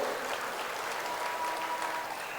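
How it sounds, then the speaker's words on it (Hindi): Audience applause at a railway station redevelopment foundation stone ceremony in Bhubaneswar, a dense steady wash of many hands clapping throughout, no voices over it. "आदरणीय रेल मंत्री श्री अश्विनी वैष्णव जी को आपण माने समस्त करताली देकी तांकु धन्यवाद दियंतु।"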